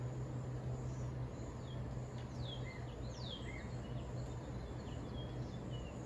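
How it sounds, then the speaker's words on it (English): Birds chirp and call faintly outdoors over a low steady hum and soft rustling air, scattered bright tweets spread across the stretch. "find joy in the sound of the breeze, in the sound of the birds"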